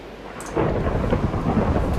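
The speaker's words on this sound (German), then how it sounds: "Ein Gewitter." A rumbling thunderstorm in Minecraft, with a low thunder roll surging in and continuing loudly under a wash of rain.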